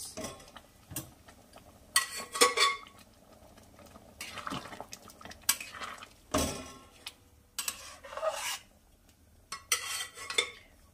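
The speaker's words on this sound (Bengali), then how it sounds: "এইবারে দিয়ে দেব এই সিদ্ধ করে রাখা ডাল এবং সবজি" Boiled dal and vegetables go into a pot of water for sambar dal made with split peas, followed by repeated close clinks and scrapes of a spoon against the pot in irregular bursts, with no talking.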